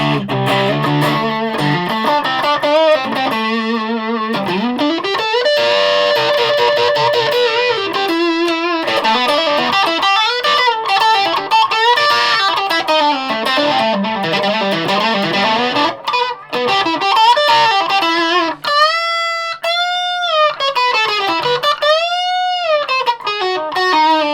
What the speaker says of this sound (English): That's like to turn the distortion on.